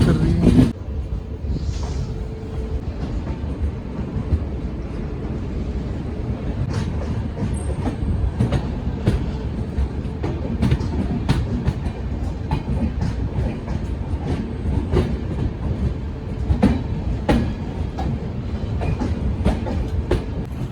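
Kathgodam–Dehradun Express (14119) rolling into Dehradun, a steady low rumble of wagons with repeated clicks of wheels over rail joints and faint squeals, heard close from aboard the train for the whole stretch.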